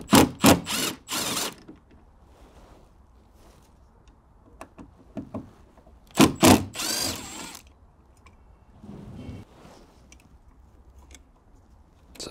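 Hand tool on an extension backs out T30 Torx screws on a Range Rover near the headlight, with two separate bursts of sharp ratcheting clicks and quiet handling noise between them, with no talking.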